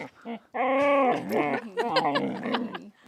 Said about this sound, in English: This is when the dogs took over the show.